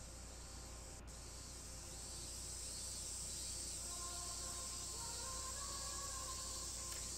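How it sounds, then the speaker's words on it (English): A steady, shrill cicada chorus fills a visual novel scene, a continuous buzzing hiss that holds at a fairly even, moderate level throughout, with no voices. "they actually have cicada sound effects, so I don't have to say chirp, chirp, chirp"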